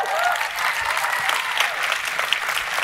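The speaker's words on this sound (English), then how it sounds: "welcome me in joining our panelists with an applause" Applause from a conference keynote audience welcoming panelists on stage, a continuous close wash of many clapping hands at steady loudness with no talking over it.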